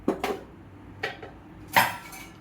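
A plate being set inside a pressure cooker in a home kitchen: three sharp metallic clanks and rattles, close and moderately loud, with quiet gaps between them and no talking.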